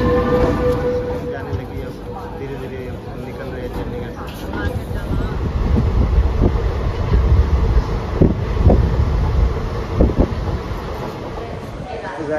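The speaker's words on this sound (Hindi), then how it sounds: "ये हमारी ट्रेन आ रही है गाइस, देखो अभी तो बहुत स्लो चल रही है" A slow train pulls into Sabarmati railway station in Ahmedabad with a steady low rumble and occasional clanks, while a crowd murmurs and someone talks over it nearby.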